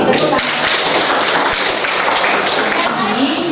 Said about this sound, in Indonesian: 100 tepuk tangan tuh